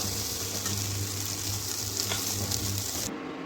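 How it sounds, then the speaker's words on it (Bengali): Last night's leftover rice stirred and fried in a pan, a steady close sizzle with soft scraping that runs continuously and then cuts off abruptly near the end. "এবার এর সাথে কালকে রাতের ভাতগুলোকে দিয়ে দেবো। এবার ভালো করে মিশিয়ে নেবো এগুলোকে একসাথে।"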